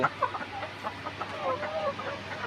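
Layer hens crowded in a hot shed cluck and murmur softly at a moderate distance, short scattered calls over a low steady hum, with a faint voice in the background.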